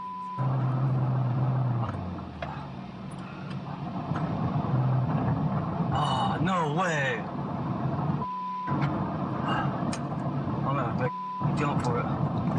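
A car is driven hard during a police pursuit, its engine revving and roaring under steady talk, with siren-like wailing tones and brief cuts of near silence between passages.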